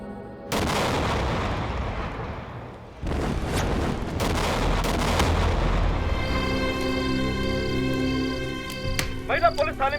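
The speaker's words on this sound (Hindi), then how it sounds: "महिला पुलिस थाने में हुआ बम ब्लास्ट।" A bomb blast rips through a women's police station in a Hindi TV drama: two sudden heavy booms, then a sustained roaring rumble and dramatic music, with voices mixed in.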